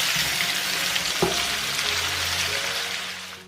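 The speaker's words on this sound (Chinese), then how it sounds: "蚝油、少许冰糖、一点点盐、少许胡椒粉，翻炒香。" Pork belly stir-fried in a hot wok with oyster sauce and rock sugar, a steady close sizzle with a brief scrape of the spatula, fading slightly toward the end.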